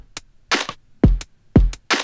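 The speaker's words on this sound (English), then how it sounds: "today we're going to take a really boring beat that sounds like this" A plain, sparse drum beat programmed in Ableton: a few deep kick thumps alternate with crisp snare and hi-hat hits over roughly two seconds, close and dry with nothing else playing.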